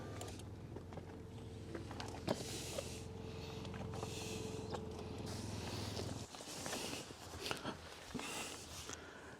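Electric lumbar adjustment motor in a Volkswagen ID.7's AGR-certified German seat, a steady low hum running for about six seconds before stopping, with a few faint clicks and cabin noise around it.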